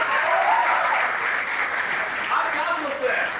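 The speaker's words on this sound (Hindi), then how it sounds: "आज अड्डा में एक शानदार स्टेज में तालियां बजा दो" An audience at a large offline meetup for exam aspirants applauds loudly and continuously, a dense, even wash of many hands clapping at once with a faint crowd murmur beneath.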